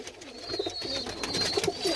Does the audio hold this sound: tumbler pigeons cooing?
yes